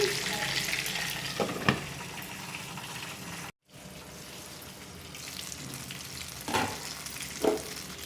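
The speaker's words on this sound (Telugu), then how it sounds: "ఇలా తిప్పుకుంటూ ఫ్రై చేసుకోవాలండి చక్కగా వంకాయ మొత్తం బాగా ఫ్రై అయ్యేదాకా ఫ్రై చేసుకోవాలి" Eggplant frying in a pan with steady sizzling throughout, broken by a brief silent gap and occasional louder stirring scrapes as the pieces are turned, with no talking.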